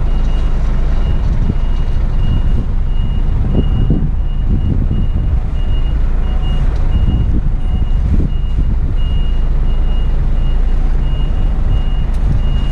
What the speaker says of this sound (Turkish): bir araba yanaştırıyorum